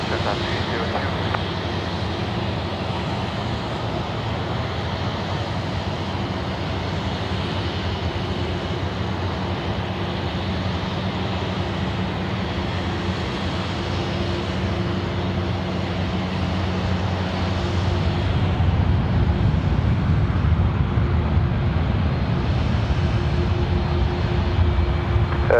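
An airliner takes off from runway 16 right at Sydney airport, its jet engines a broad steady roar that swells louder toward the end.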